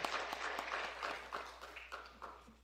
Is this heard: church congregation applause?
yes